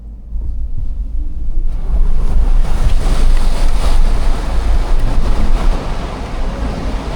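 A Lexus off-roading through deep water gives a loud, continuous rushing roar of churning water and wind buffeting the microphone, steady and close, with no talk.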